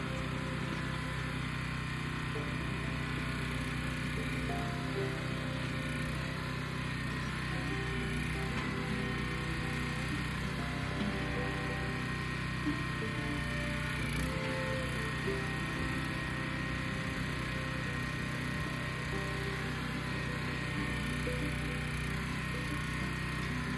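A backhoe digging and moving dirt, its diesel engine droning steadily and continuously at a moderate distance, with no clear pauses.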